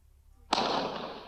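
A big firework bursts with a sudden loud bang after brief quiet, followed by a long broad crackling, rushing roar that slowly fades.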